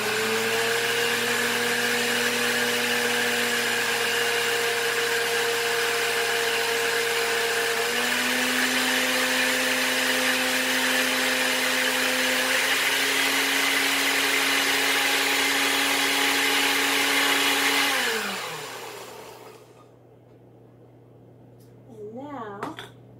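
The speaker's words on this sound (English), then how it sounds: "So now we're going to blend this together." A kitchen blender whirs steadily for about eighteen seconds, mixing a Thai noodle salad dressing, its motor pitch stepping up slightly partway through before it switches off and winds down into quiet.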